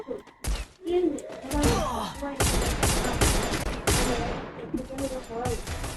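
Rapid bursts of gunfire in the Free Fire battle royale game, clusters of sharp repeated shots over several seconds, loud and close, with a player's voice talking in between.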